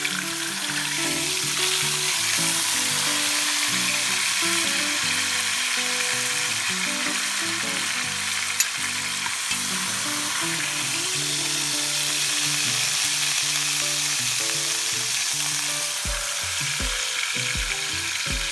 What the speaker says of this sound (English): we want the olive oil to be hot, very hot, because we're looking to sear this